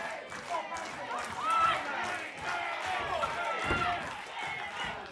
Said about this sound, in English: Well, the crowd are screaming